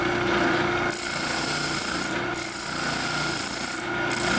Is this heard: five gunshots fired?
no